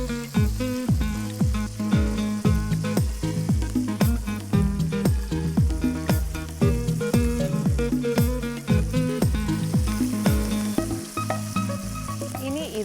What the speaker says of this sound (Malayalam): ഇനി ഇത് ഒന്ന് വറുത്തെടുക്കണം.